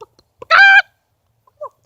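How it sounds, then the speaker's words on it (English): A single loud, close hen cluck rings out for about a third of a second, followed by a short softer cluck; the rest is near silence. "We have chickens and ducks."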